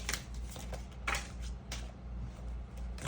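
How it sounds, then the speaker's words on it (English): A deck of tarot cards is shuffled close up in quick riffling bursts, a short run of crisp paper flutters and taps with no talking. "A few cards fell, but they didn't flip up right, so let me shuffle them back in"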